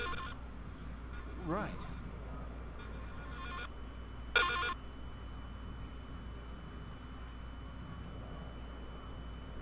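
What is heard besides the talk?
phone ringing from Wii remote speaker in Silent Hill video game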